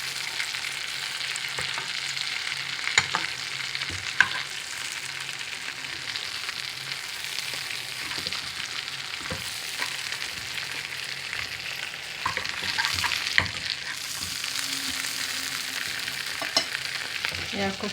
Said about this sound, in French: نقليو اللحم ونبقاو نسديوه الزبدة والزيت الزيتون والزيت من كل الجوانب